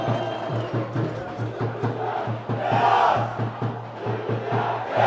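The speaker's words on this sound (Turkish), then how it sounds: "Karaman seyircisi şampiyon Karaman diye Karaman'ı inletiyor." Karaman football supporters in a stadium chanting in a rhythmic, repeated cadence, a big crowd roaring the beat steadily with a swelling cheer midway.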